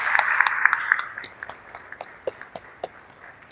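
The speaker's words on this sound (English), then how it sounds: "Let's give him a big round of applause today." Modest applause at an outdoor groundbreaking ceremony for a school addition, honoring a state senator: scattered claps and a few sharp isolated hand-hits that thin out and fade over a few seconds, fairly distant and light.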